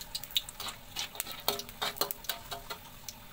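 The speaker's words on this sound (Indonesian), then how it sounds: "Goreng kemiri yang sudah dicuci bersih sampai berwarna kecoklatan." Washed candlenuts fry in a little oil in a wok, giving a faint crackle with light ticking pops and the scrape of stirring, irregular and close.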